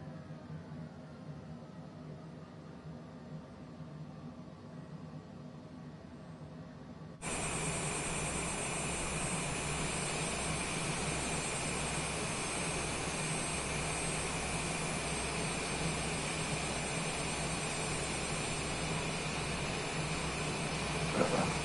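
A Cessna Longitude private jet in Microsoft Flight Simulator 2024 produces a steady, loud cockpit engine roar that jumps sharply in intensity partway through and then holds a constant broadband whine.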